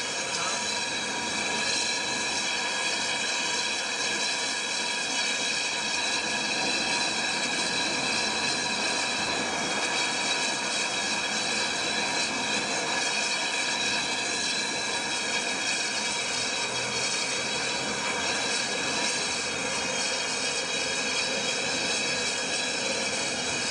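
A small gas turbine engine on its first run gives a steady, sustained whine with layered tonal hums and a roaring wash beneath, holding constant and fairly close for the whole stretch.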